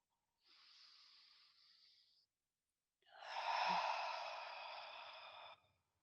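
Slow, deep breaths during a gentle yoga stretch while lying long on a mat: a soft, airy inhale of about two seconds, a short pause, then a longer, fuller exhale, close and quiet with no talking.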